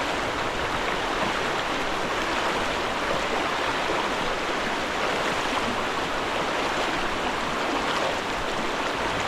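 Broad, steady rush of river water flowing, loud and continuous throughout with no voices.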